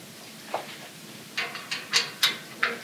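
Allen wrench turning the set screws on a bow's sight mount, heard as a series of short, close metallic clicks and ratchet-like ticks, one early and then five spaced clicks in the second half.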